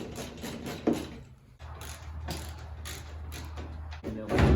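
Ratchet backing out headlight mounting bolts on a 2007-2013 Chevrolet Silverado: steady close ratcheting clicks with a low hum underneath, continuous over a few seconds.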